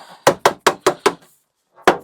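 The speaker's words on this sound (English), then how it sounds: "That's a dead blow hammer. It's got lead shot in it, so it doesn't bounce." Five quick, evenly spaced dull taps of a lead-shot-filled dead blow hammer on a metal beehive lid, a brief pause, then one more tap, close and sharp without ringing.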